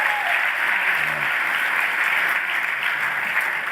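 Continuous applause from a conference audience at a general session, a thick, even wash of clapping heard alone with a brief voice early on.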